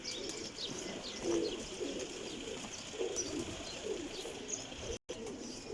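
Several champion flying pigeons coo in low, repeated murmurs at moderate distance, with no talking, against a steady background hum and a brief dropout near the end.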